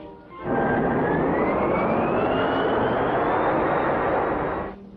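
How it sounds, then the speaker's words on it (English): Cartoon spaceship landing generators powering up, a steady loud engine-like drone with a slowly rising whine that swells in, holds for several seconds, then cuts off, with no voices. "Activate landing generators."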